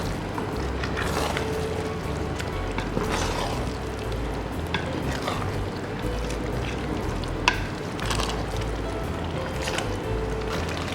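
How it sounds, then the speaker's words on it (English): Palm oil poured into a pot of egusi soup gives a steady, close, continuous sizzle and bubbling hiss, loud and even throughout, with no voice over it. "So the palm oil goes in."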